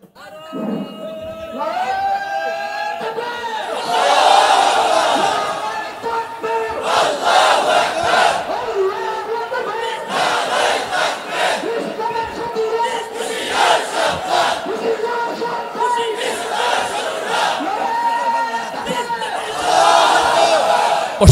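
A large crowd chants slogans in loud, rhythmic call-and-response bursts at a Bangladeshi Islamic religious gathering (waz), the massed voices surging repeatedly and close throughout.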